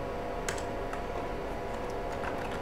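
Fingers typing on a computer keyboard while entering text into an Excel table, a quick run of light clicks and taps close by, with no one talking.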